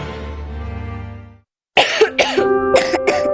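A child coughs in several sharp, close bursts after a sustained musical tone fades out and a brief silence follows.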